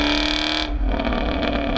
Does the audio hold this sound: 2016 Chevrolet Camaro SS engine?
yes